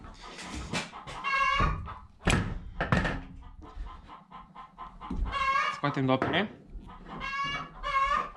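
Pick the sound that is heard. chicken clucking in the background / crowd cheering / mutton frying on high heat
chicken clucking in the background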